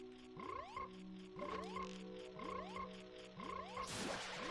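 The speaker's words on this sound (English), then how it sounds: "I'm so tired of this frog croaking sound. I've been low health this whole time." Repeated low-health warning beeps from Zelda: Ocarina of Time that sound like frog croaks, four evenly spaced rising chirps, faint and steady, with a brief noisy burst at the end.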